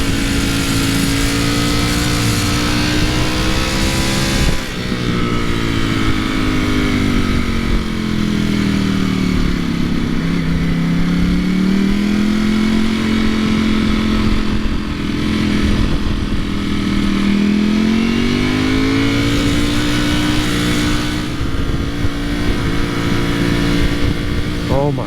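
Ducati V4 SP motorcycle with carbon wheels riding along, its dry clutch rattling loudly beside a steady engine drone and wind rush that swells and eases in pitch through the whole ride.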